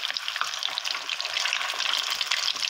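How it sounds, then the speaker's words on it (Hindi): Chicken koftas sizzle steadily in hot oil in a pan, a loud, close, continuous crackling fry with no voices. "इन्हें लाइट ब्राउन करके ना फ्राई कर लेंगे"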